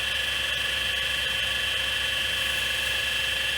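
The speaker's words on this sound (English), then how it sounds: "It's got a pretty sweet rewind. It's going crazy." A Panasonic PV-V4621 VCR rewinds a tape with a steady high-pitched mechanical whine that runs continuously without pause.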